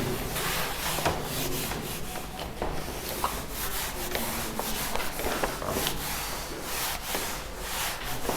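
Writing on a classroom board is rubbed off with quick, continuous scrubbing strokes, close and fairly loud, with no talk.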